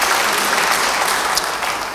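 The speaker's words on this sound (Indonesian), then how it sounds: "Beri tepuk tangan bagi dia." A church congregation claps loudly and continuously, a thick wash of applause with faint crowd murmur mixed in, tapering slightly at the end.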